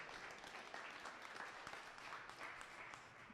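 Audience clapping steadily at a tech conference session, a dense continuous patter of many hands held at a fairly even level for the whole stretch, with no voices rising above it.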